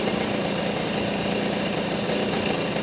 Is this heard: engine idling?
yes